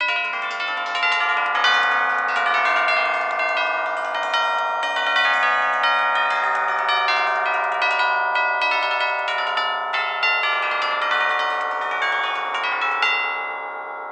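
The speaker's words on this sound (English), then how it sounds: "Bell chimes." Orchestral tubular bell chimes ring continuously in a dense, sustained cluster of overlapping metallic tones, loud and alone, fading slightly at the end.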